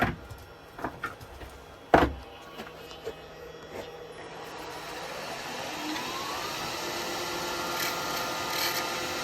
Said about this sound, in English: I'm just going to finish up this bottom now. Small spindle gouge.